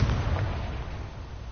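A Confringo explosion spell bursts in the Hogwarts Legacy video game, a single deep booming blast with a low rumbling tail that fades out over a second or so.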